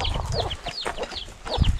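Chickens cluck and squawk in a simple rural coop, several birds calling close together in a busy, overlapping jumble of short calls with low rustling beneath.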